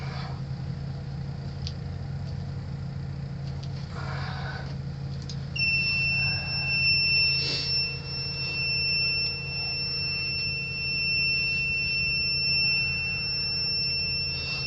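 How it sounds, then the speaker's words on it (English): A SANY 8200 crawler crane's cab alarm sounds as steady high-pitched electronic tones, holding for several seconds beneath a constant low engine drone. "Right now we're trying to shut the alarm off"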